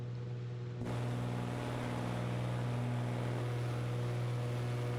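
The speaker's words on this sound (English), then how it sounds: "And the beautiful sound of a nice, simple bit of piston engine." Twin piston engines of a Cessna 414 in Microsoft Flight Simulator 2024 drone on as a steady, loud, low hum with a sharp jump in level just under a second in, then a constant even roar to the end.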